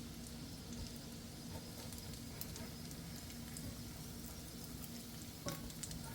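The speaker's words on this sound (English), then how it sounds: "I'm going to let that one cook just a little bit longer on that side." Bacon ranch chicken patties frying in a pan, a faint, steady crackling sizzle with small pops throughout, heard alone at low level.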